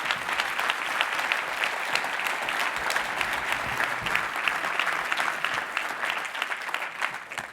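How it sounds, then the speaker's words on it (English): Audience applause at a professional association welcome session, a dense, even wash of clapping sustained throughout at moderate level, with no speech over it. "I want to give him a big round of applause for all the work he's done."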